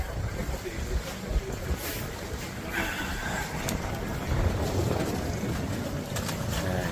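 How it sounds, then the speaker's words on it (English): Wind buffets the microphone steadily, a broad rumbling roar outdoors with faint water and distant activity beneath it. "A little windy over here."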